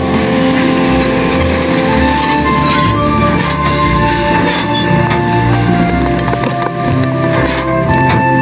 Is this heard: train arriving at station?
yes